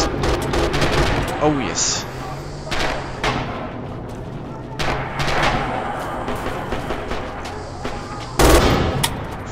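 Repeated bursts of MG42 machine-gun fire in the Red Orchestra 2 video game, loud and close, come in rapid rattling volleys with brief pauses between them, and someone briefly speaks over the shooting.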